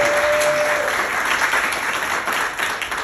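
Steady audience applause fills an evening dinner event honoring a speaker's family, a dense continuous wash of many clapping hands at moderate loudness with no voices on top.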